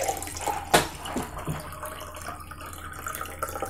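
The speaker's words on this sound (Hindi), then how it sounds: "और अब इसके अंदर आप डाल दीजिए पानी" Water poured into a drinking glass set over a paper arrow, a splashy filling sound with a sharp clink early on, then a softer steady trickle that fades.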